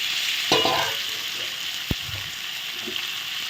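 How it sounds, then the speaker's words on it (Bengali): A cauliflower curry cooks in a pan after a little water is added, sizzling steadily up close, with a sharp clatter and a brief splash as the pan is stirred. "এই অল্প জল দিলাম ফুটবে সিদ্ধ হবে"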